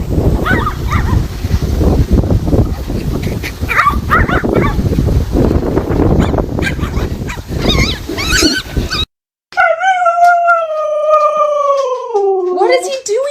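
Several seconds of loud, busy talk give way to a dog's drawn-out, wavering howl that slides downward in pitch near the end.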